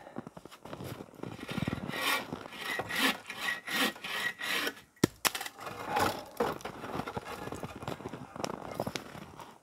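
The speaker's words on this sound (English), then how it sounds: "We're just going to spend a little bit of time here cutting up the scrap pieces into firewood." Scrap wood pieces are cut into firewood with rhythmic rasping saw strokes in bursts, a sharp knock midway, then steadier cutting close by; faint voices may sit underneath.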